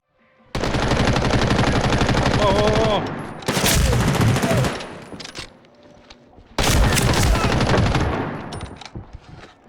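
Sustained rapid automatic gunfire in several long bursts, dense and loud, with booming impacts and faint voices mixed in, from the video game Medal of Honor: Warfighter.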